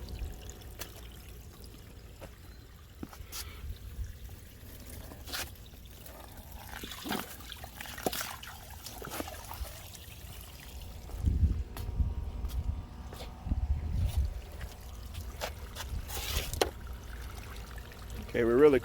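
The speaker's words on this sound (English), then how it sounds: "Let's bring that hose a little closer." Water from a garden hose runs across a patio toward a channel drain, making a faint splashing trickle that grows stronger partway through. Voices talk nearby.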